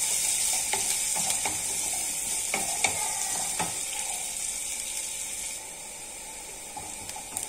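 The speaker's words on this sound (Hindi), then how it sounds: "अब इसमें हम प्याज डाल देंगे, बारीक कटे हुए 2 प्याज लिए मैंने। प्याज को भी अच्छा गोल्डन ब्राउन होने तक हमें भूनना है।" Two finely chopped onions fry in a pan while being stirred toward golden brown, a steady close sizzle and hiss with occasional scraping stir strokes, no voices.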